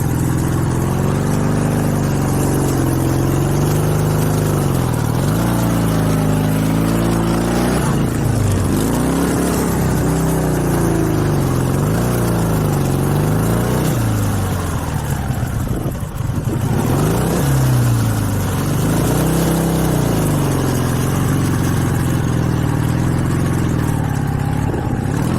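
A Dnepr two-wheel-drive sidecar motorcycle engine labours and revs while riding off-road through deep sand, its loud, rising and falling drone continuous and close throughout with no talk.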